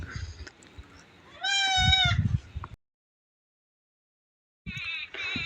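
Goats and young kid goats bleating on a farm, one loud wavering bleat up close followed by another at the end, with rustling and shuffling between and a stretch of silence.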